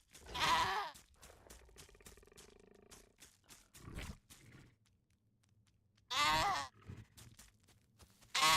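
A goat in the survival video game The Isle gives loud, wavering bleats, one at the start and another about six seconds later, with scattered game clicks and low rumbling between them.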